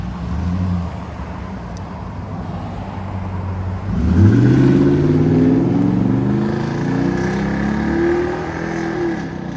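2015 Ford F-250 with a 6.2L V8 and Flowmaster 50 Series exhaust idles low, then a loud rev climbs and settles back into a deep rumble, heard up close with no talk.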